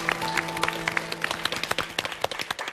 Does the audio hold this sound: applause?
yes